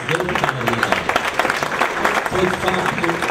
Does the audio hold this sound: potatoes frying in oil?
no